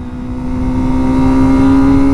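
A motorcycle engine holds high RPM during a wheelie ride with an MT-09 and Z900, a loud sustained whine that climbs slightly and stays steady to the end.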